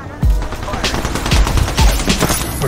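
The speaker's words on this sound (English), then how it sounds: "somebody sniping" Sniper gunfire rings out in a video game firefight, several sharp loud shots with short gaps between them, heard over busy game noise and background sound.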